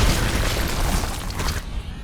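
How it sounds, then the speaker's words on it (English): A lambent wretch exploding in Gears of War, a loud, dense burst of blast noise and rumble lasting about a second and a half before cutting off abruptly. "these bastards explode, and the explosion does as much damage as a normal hit"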